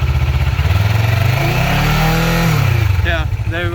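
A motorcycle engine, fitted with a Powertronics quick shifter, revs up and falls back as the throttle is rolled on during calibration. The loud, close engine rises in pitch, holds, then drops, and a voice speaks briefly near the end.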